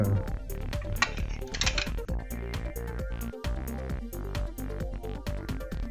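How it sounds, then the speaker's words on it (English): Metal plate and countersunk M3 screws handled on a QFLEX 400 unit, giving a busy run of close, bright metallic clinks, taps and small rattles with no talk. "we're going to install this plate first with the countersunk M3 screws we saved"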